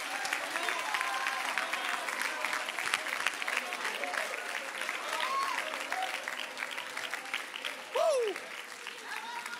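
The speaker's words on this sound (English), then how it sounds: "You ought to be standing clapping your hands right now" A church congregation claps steadily and continuously, a dense crowd of hands with voices and cheers mixed through, and a louder shout near the end.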